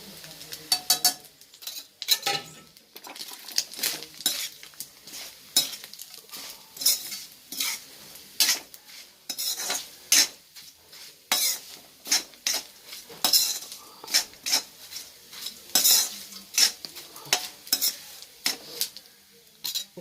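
Dried anchovies fry in a pan while a utensil stirs them repeatedly, giving a busy, irregular run of scrapes and metallic clinks over a light sizzle, close and continuous with no voices.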